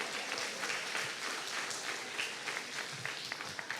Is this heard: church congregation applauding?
yes